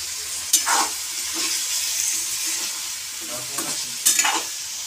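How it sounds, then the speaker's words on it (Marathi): Tomatoes frying in a pan for chicken sukka, giving a steady close sizzle with a few sharp spatula scrapes and clinks against the pan. "तर टोमॅटो चांगलं विरघळेपर्यंत आपल्याला चांगलं फ्राय करून घ्यायचं आहे"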